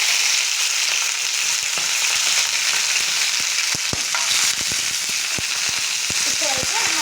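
Nalleru stalks frying hard in hot oil in a pan, a loud, dense, continuous crackling sizzle with sharp pops scattered throughout and no talking.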